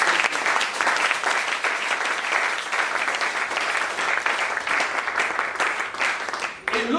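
A church congregation applauds and cheers steadily for God's name, a loud, sustained wash of clapping and voices that barely fades before a brief drop at the end.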